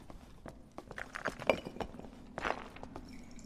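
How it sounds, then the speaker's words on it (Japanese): Footsteps in the Dark and Darker video game, a quiet run of soft irregular thuds with a few sharper knocks, heard faintly from one side with no talk. "左足音"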